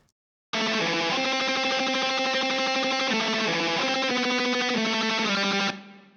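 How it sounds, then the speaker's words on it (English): A dry, distorted electric guitar with no EQ or effects plays a sustained black metal lead line of ringing notes, loud and alone, stopping abruptly near the end. "this lead track by itself without any EQ or effects, it just sounds like this"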